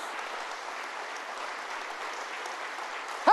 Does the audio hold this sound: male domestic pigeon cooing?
no